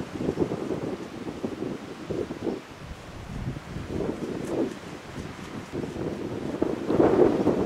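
Gusty wind rushes through the Andalusian mountains in uneven surges that swell and fade, buffeting the microphone with low rumbling, and no one speaks.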